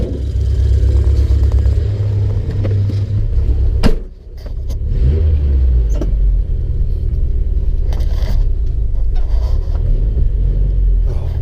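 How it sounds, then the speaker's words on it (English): A warmed-up 1987 Toyota 4WD pickup engine, needing a head gasket, runs with loud valve noise: a close, steady low rumble with scattered sharp clicks and a brief dip partway through. "Man, those valves are loud."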